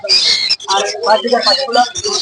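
Caged pet birds in a bird shop, budgerigars, lovebirds and cockatiels among them, chirp and tweet busily and close by, a dense continuous chatter of calls that a voice keeps talking over.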